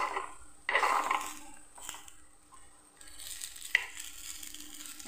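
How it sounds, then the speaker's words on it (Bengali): Appams flipping and frying in a pan make a steady soft sizzle and stir, with a louder scraping burst near the start and a brief sharp tap later on, all moderately close. "আপেমগুলো একটু উল্টিয়ে দিই"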